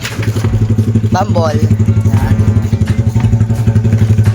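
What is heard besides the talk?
motorcycle engine warming up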